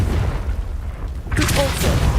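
Confringo spell blast in the Hogwarts Legacy video game, a loud booming burst with a crackling rumble that carries through the short clip, with a brief bright whoosh midway.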